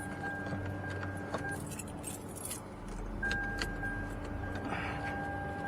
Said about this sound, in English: I'm just trying to get the key to turn.